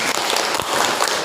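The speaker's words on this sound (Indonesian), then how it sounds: "beri tepuk tangan" A group in an Islamic religious education classroom session gives a short, steady round of clapping, a dense burst at moderate loudness filling the whole moment.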